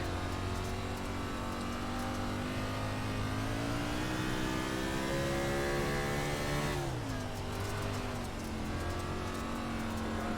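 Race car engine in the iRacing simulator on the Bristol dirt track, a loud continuous drone that climbs in pitch, dips sharply as the car slows, then rises again.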